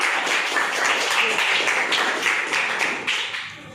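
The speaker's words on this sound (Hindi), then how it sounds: "तो तालियां बजाओ मसीरा के लिए।" Steady applause from an audience cheering a contestant in a kids' quiz game modelled on Kaun Banega Crorepati, a dense wash of clapping that holds for several seconds and thins slightly at the end.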